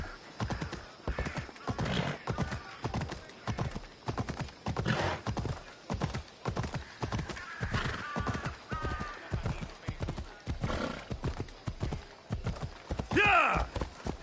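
Horse galloping in the video game Assassin's Creed Odyssey, rapid rhythmic hoofbeats throughout with a neigh near the end, and speech over the hooves.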